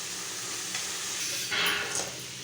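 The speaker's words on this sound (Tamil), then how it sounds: "மீடியம் ஃப்ளேமில் வச்சு காய் வேகிற அளவுக்கு நம்ம வதக்கி விட்டுக்கலாம்." Carrots and beans sautéed in a pan on a medium flame, stirred: a steady, close sizzling hiss throughout with brief scraping swells of the spoon, no talking.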